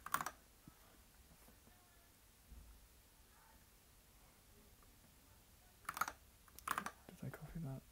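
Typing on a computer keyboard, quiet scattered keystrokes early on, then a few louder bursts of clicking near the end, with faint background room noise.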